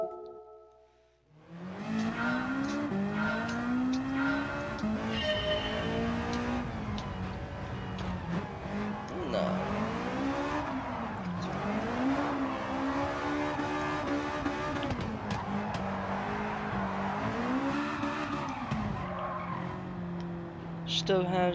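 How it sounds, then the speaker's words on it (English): A slightly drift-tuned car in Gran Turismo 7 holds a steady, loud engine drone that wavers in pitch as it slides, with tire squeal and skidding running continuously for about twenty seconds. "Let's see how my other car is that is slightly tuned for drifting."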